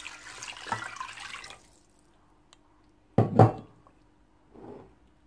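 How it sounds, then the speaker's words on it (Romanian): Water pours briefly into a pot holding sliced mackerel rounds for a marinade, followed by a quiet pause, a sharp clink of cookware and a softer handling sound in a home kitchen. "Voi pune apa."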